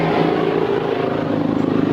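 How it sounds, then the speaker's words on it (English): A black helicopter flies overhead, producing a steady, loud rotor and engine drone that fills the whole stretch without pause. "them black helicopters, they fly around me often"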